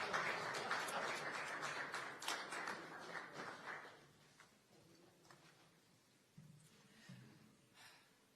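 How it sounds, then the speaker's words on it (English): Audience applause at a Capitol ceremony unveiling a congressional room honoring Joseph Rainey: a soft, dense patter of clapping that fades out after about four seconds, leaving quiet room noise. "The floor is yours, and yes, you may applaud."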